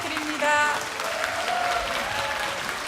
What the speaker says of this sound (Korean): 더 오케스트라와 한세영 지휘자님께 큰 박수 부탁드립니다